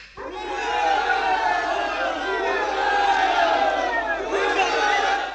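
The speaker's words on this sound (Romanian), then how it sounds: "A venit poporul să-și aclame ales." A large crowd of voters roars and cheers for their newly elected deputy, a dense continuous wall of shouting voices that swells and holds throughout, loud and close.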